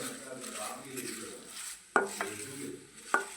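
Stirring chili powder and turmeric into curry leaves in a pan for curry leaf pickle, a soft frying sizzle underneath with two sharp scrapes or taps of a spoon against the pan.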